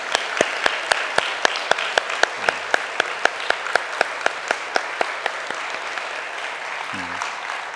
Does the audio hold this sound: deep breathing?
no